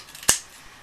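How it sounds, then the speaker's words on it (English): A single quick snip of scissors cutting painted paper for a craft blessing bowl, a sharp close click in an otherwise quiet room. "Grab my trusty scissors."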